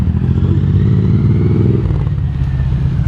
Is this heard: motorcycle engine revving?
yes